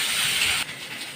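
Potatoes, papaya and raw banana rubbed with turmeric fry in a pan of hot oil, giving a loud, steady hiss that drops suddenly halfway through to a quieter sizzle, with no talking.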